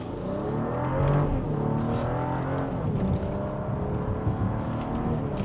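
A 2024 BMW X5 40i pulls away in Sport Plus mode, its engine note rising steadily through a continuous smooth drone heard from inside the cabin with no talking.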